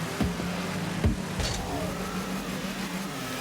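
A car driven in a video game, with a steady engine hum and a few brief thumps, even and moderately loud and continuous, with no talking.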